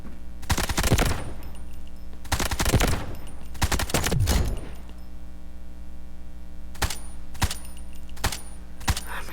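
Several bursts of rapid gunfire from a rifle fitted with a bipod in the shooter video game Delta Force, loud and close, with short pauses between volleys and a few single sharp shots near the end.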